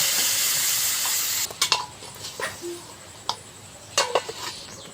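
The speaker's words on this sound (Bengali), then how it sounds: "এবার জল দেবো" Water poured into a hot frying pan of shrimp and spices, a loud steady hiss that cuts off after about a second and a half, followed by scattered clinks of a spoon or utensil against the pan.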